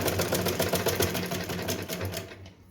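Sewing machine running a straight stitch on a small Laddu Gopal dress, a steady rapid needle clatter close up, alone and continuous before slowing near the end.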